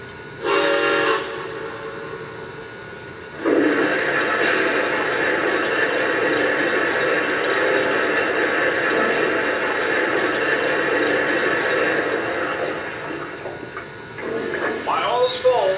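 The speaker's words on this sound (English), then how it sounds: "And here's a sound of oil filling up the tender." A Lionel Legacy Santa Fe 4-8-4 model locomotive's oil-filling sound effect: a short whistle-like tone, then a steady rushing hiss of liquid filling the tender for about ten seconds before a voice comes in.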